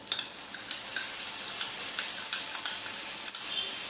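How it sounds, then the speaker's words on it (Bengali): Yogurt mixed with spices goes into frying onion, ginger and garlic in a pan, raising a bright continuous sizzle with soft stirring scrapes throughout, close and fairly loud, with no voices. "পেঁয়াজ আদা রসুনটা আমার ভাজা ভাজা হয়ে গেছে, এর মধ্যে আমি এই দইয়ের সাথে যে মশলাটা মিলিয়ে রেখেছিলাম এটা অ্যাড করে দিলাম"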